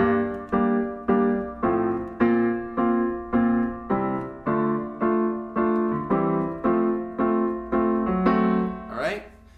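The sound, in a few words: piano playing chord loop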